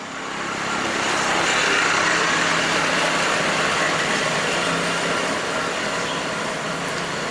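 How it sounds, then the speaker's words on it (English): A boat engine idles steadily at close range, its broad mechanical drone holding even throughout with no voices. "We arrive by ferry boat and stroll around."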